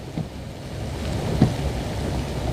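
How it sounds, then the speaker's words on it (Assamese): Morning rain falling over a town, a steady soft wash of patter with a low rumble underneath and one slightly louder thud partway through, even and continuous. "বৰষুণ দি আছে, অকণমান অসুবিধা এটা হৈছে।"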